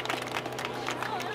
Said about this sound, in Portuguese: palmas para esse round, família